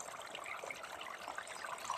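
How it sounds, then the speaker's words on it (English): Water trickles slowly through a beaver dam, a steady soft burbling and splashing that continues evenly at moderate distance without a break. "that trickling of water shows that the flow of water is going really slow through this beaver dam"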